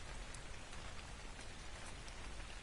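Steady rain falling in ARK: Survival Evolved, a dense, even hiss of drops pattering on surfaces, quiet and continuous with no voices.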